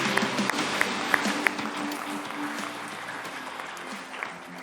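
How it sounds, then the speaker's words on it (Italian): An audience applauds at a grassroots football event at the Coverciano federal technical centre, a steady wash of clapping with a few sharper claps standing out. "Quindi possiamo fare un applauso."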